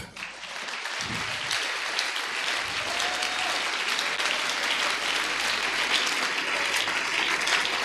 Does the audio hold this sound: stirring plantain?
no